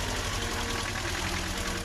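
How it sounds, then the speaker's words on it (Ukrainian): A T-25 tractor's diesel engine runs steadily close by, with a loud, dense drone and a rhythmic knocking pulse throughout; no voices. "це не просто шум двигуна, це саундтрек нашого дитинства, запах солярки, нагріте сонцем залізом, рівний гуркіт мотора"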